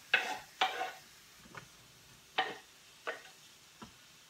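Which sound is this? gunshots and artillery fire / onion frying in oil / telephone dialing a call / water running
onion frying in oil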